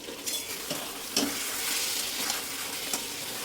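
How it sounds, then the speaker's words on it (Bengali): Spice masala for vegetable khichuri sizzles steadily in a pan while it is stirred and fried, with occasional scraping strokes over a continuous close frying hiss. No one speaks. "মশলাটা ভালো করে কষিয়ে করে দিতে হবে, তাই না?"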